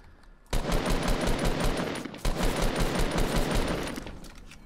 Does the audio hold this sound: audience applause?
no